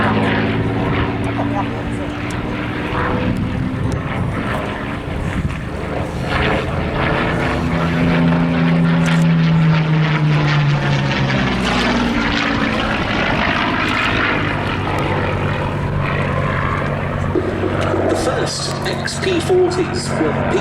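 A Merlin-engined Curtiss P-40F fighter plane drones steadily and loudly throughout, its pitch sweeping as it passes, with a voice talking over it.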